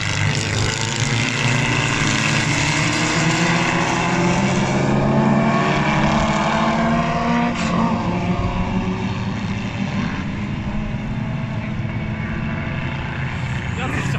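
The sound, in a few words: single-seater race cars racing at Magny-Cours circuit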